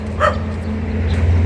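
A neighbour's dog, a Mexican breed, barks in short yips from nearby, with a low steady hum underneath.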